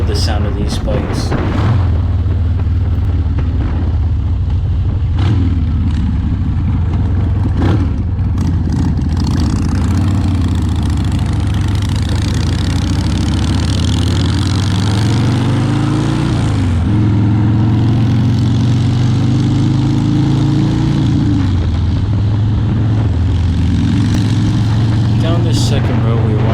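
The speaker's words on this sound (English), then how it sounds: "I love the sound of these bikes." Custom-built Harley motorcycle engine rumbling steadily on a test ride, its low throbbing note rising and falling with throttle changes throughout, loud and close.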